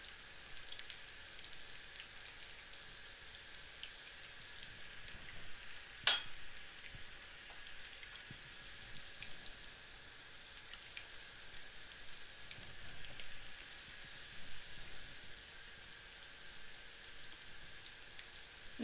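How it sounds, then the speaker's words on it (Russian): Cutlets fry steadily in a pan, a soft, even sizzle and crackle running throughout with a single sharp tick partway in. "Наша задача только обжарить котлеты с двух сторон"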